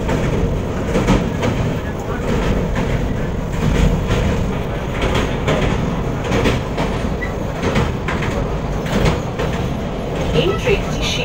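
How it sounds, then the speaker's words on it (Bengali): The 22895 Howrah–Puri Vande Bharat Express runs on its rails near Cuttack, producing a continuous loud rumble with a rhythmic clatter of wheels throughout. "এই ট্রেনটি শীঘ্রই কটক জংশন স্টেশনে পৌঁছাবে।"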